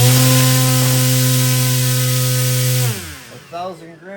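An RC motor spins a 3-bladed 8.5-inch folding propeller at high speed with a loud, steady buzzing whine, then winds down quickly near the end.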